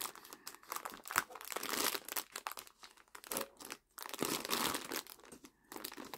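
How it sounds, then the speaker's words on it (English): Plastic crinkles and crunches repeatedly as a bag is handled and pulled open, with brief pauses between bursts of rustling, close to the microphone. "So, I can open this bag."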